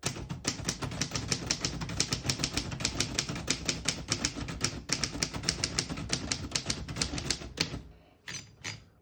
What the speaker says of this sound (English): Very nice typing machine,